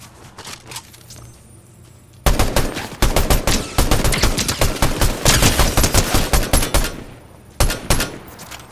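Fortnite Battle Royale gunfire: after a quiet start, dense rapid bursts of automatic shots erupt and continue for about five seconds, loud and close, followed by a pause and one more short burst.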